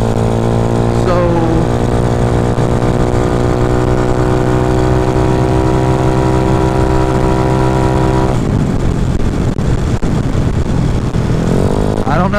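A Honda Ruckus scooter engine runs loud and close, a steady buzzing drone that holds for several seconds before shifting into rougher, uneven revving and sputtering.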